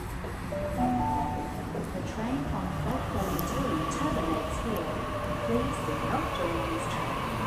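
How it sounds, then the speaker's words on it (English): A Sydney Trains terminating service, set A56, pulls into platform 2 at Berowra with a steady hum and rumble and faint whining motor tones, while someone talks over it. "We have a terminating service arriving into platform number 2."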